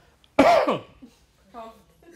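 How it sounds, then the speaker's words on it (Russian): A man in a lecture hall gives one sharp, close cough, followed by a brief pause and then a little speech. "I coughed."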